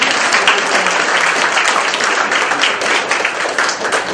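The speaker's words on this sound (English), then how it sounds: "How about a round of applause for all the volunteers?" A crowd applauds volunteers at a communication talk, loud, dense clapping from many hands that continues steadily for several seconds with no speech over it.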